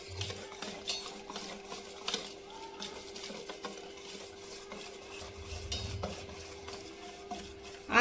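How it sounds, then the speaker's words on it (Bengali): A spoon stirs eggless semolina and flour sponge cake batter in a bowl, making faint, repeated scraping and clinking strokes in a steady rhythm close by. "এবার আমি আবারও সব ভালো করে মিশিয়ে নেব, নাড়াচাড়া করে ভালো করে ব্যাটারটা তৈরি করে নিতে হবে।"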